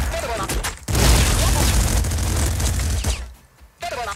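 Flak cannon fire in the game Nuclear Throne, heard as a loud, dense burst of shots and booms lasting a few seconds before breaking off, with a short sharp burst again at the end.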